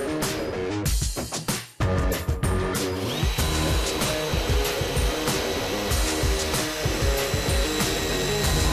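A power drill bores a hole in the metal body of a classic Mini, a steady whirring grind after a few short starts and stops, close and fairly loud.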